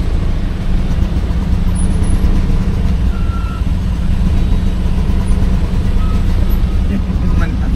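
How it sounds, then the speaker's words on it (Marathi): Heavy highway traffic rumbles below a double-decker bridge in Mumbai, a loud constant roar of engines, trucks and buses with a reversing beep, while people talk over it. "ट्रॅफिक बघू शकता हायवेची किती आहे खाली."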